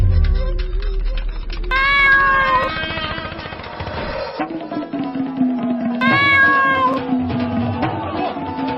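A cat meows loudly several times in drawn-out, wavering cries, with a short pause between calls and low background noise underneath.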